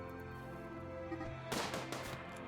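Heavy SMG fire from the video game Rimworld cracks out in a short, sharp cluster of shots midway through, over a steady bed of soft game music.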